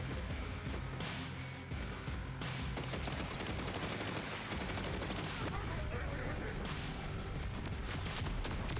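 Rapid gunfire from the video game Borderlands 4, dense bursts of automatic shots and impacts crackling continuously and loud throughout, with game sounds layered in.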